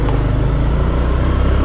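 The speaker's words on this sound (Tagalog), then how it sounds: "Kaso traffic ngayon Friday." Steady road traffic rumbles while driving on a Friday, a loud, continuous low engine and road drone with no distinct passing vehicles.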